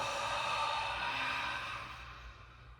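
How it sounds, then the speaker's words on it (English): A deep, slow exhale through the mouth during yoga breathing, one long airy breath that is loud and close, then fades gradually over about three seconds. "And then exhale, let it all go."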